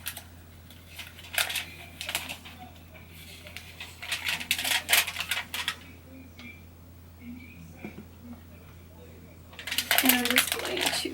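Aluminium foil handled during home hair dyeing, bursts of crisp crinkling and rustling close by, with quiet talk and pauses between the handling.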